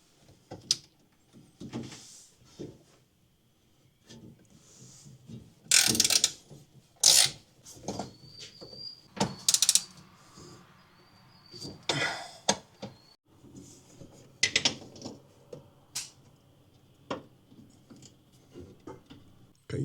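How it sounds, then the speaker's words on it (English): A hand ratchet loosening nuts on the firewall of a 1978 GMC truck during brake booster work, heard as close, intermittent clicking and metallic clanks in scattered bursts over a quiet background. "Now we're going to loosen up these nuts back here on the firewall."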